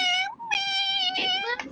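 A cat meows loudly and close, a drawn-out whiny call repeated in two or three tonal cries, with a person speaking briefly alongside.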